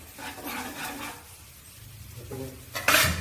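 Ginger and garlic being sautéed in a pan, with metal utensil clinks and scraping against the pan and a light sizzle, ending in a louder clatter.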